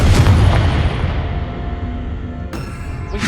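A Confringo fire spell bursts in Hogwarts Legacy, a loud, booming blast that rumbles and fades over a few seconds, with a sharp crackling hit near the end.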